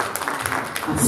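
Guests at a 60th birthday party in Stuttgart clap for two women, a brief burst of lively applause mixed with voices and cheering close by.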